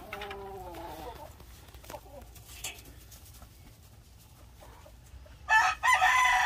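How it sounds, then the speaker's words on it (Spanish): A fighting rooster crows once near the start, a moderately close, wavering cock-a-doodle-doo, followed by quieter yard ambience, a few faint knocks and a short burst of louder noise at the end. "Este es un gallo peleado el año pasado."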